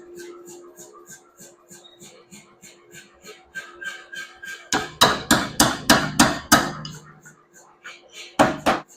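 A hammer forging a hot feather-pattern steel billet: a slow run of soft taps, then a burst of six loud, ringing metallic strikes in steady rhythm, and two more sharp blows after a pause, close by.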